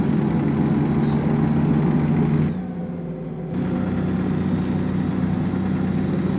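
A Peterbilt 567 truck engine idles in American Truck Simulator, a steady low rumble that dips briefly quieter midway before resuming at the same level.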